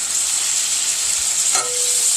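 Ground beef, about 1.5 pounds, sizzles steadily in a pan on a stovetop, with a constant bright hiss throughout and a brief scrape of stirring near the end.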